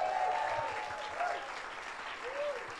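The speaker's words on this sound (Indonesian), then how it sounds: "kasih tepuk tangan dulu buat semua yang melayani" A church congregation applauds in a dense, continuous patter, moderately distant, with a voice speaking faintly over it.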